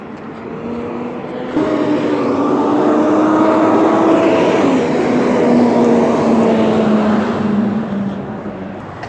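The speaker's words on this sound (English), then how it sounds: "Hybrid FedEx truck." Hybrid FedEx delivery truck driving past on a road, a steady loud engine and tyre rumble that swells as it nears and fades slightly as it moves away, with a rising whine throughout and no talking.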